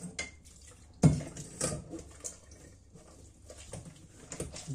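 Soaked bread rolls are squeezed out by hand over a kitchen pot, giving faint drips and trickles of water with a few soft clinks of the pot, quiet and close.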